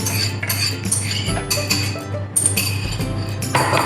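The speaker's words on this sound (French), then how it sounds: "Et donc je vais mélanger avec le sucre." A utensil stirs melted butter with sugar in a bowl, giving continuous scraping and clinking against the sides, close and moderately loud, with no speech.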